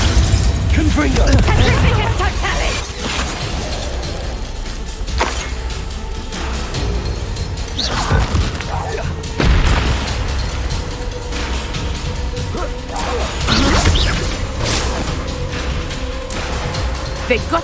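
Spell blasts and crashing impacts in Hogwarts Legacy combat, a series of loud bursts, smashes and clattering effects spread through the fight, with voiced shouts and spell calls over them.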